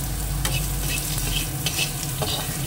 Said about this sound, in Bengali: ফোড়নটা দেওয়া হয়ে গেলো, আমটাও একটু ভাজা হয়ে গেল একবারে